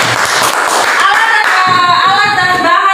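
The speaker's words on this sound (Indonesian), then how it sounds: "Tepuk tangan dulu untuk kita" A classroom of students clapping together during a lesson, loud and close, a short burst of hand claps with some voices mixed in.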